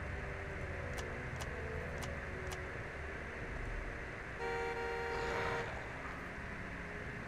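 Car horn honked in Jurassic Park: The Game while a Triceratops stands nearby: one sustained, fairly loud honk lasting about a second, following a few light ticks over a steady low rumbling ambience.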